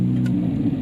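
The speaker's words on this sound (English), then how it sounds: "And the car starts." A first-generation BMW Mini (R50/R52/R53) engine catching and settling into a steady low idle rumble, close and moderately loud, brief with no talk.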